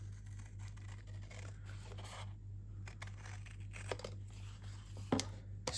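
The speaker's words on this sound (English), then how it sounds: "And then I'm going to grab my big scissors." Big scissors snip through paper during craft work, giving a few soft crisp cuts and crinkles close by over a steady low hum, with a sharper snip near the end.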